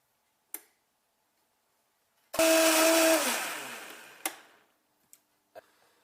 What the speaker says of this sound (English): we're ready to blend. Remember to start off low and then move to high for longevity of the blender.